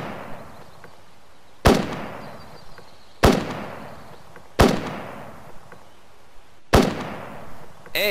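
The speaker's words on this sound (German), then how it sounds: "Ich mache die Schießübung." Gunshots during shooting practice in the Western video game The Westerner 2: four loud, sharp cracks spaced a second or two apart, each with a short decaying tail over a low background hum.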